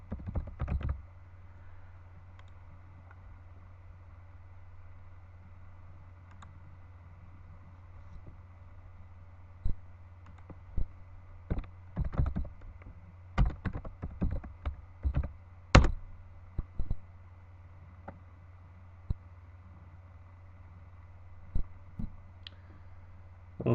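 Keys tapped in short irregular bursts on a computer keyboard while a password is entered, sparse clicks spread over a steady low hum, close and fairly quiet.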